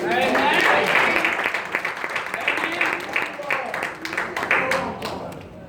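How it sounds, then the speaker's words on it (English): An audience at a live church service applauds the singers who just performed, a dense wash of clapping that stays fairly loud, slowly thinning near the end, with a voice speaking over it. "Come on, let's give them another hand."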